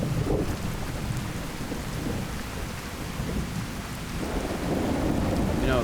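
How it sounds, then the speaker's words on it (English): In-game thunderstorm in Fallout New Vegas: steady heavy rain with low rumbling thunder rolling underneath, continuous and moderately loud with no talk. "Just our luck. Another thunderstorm."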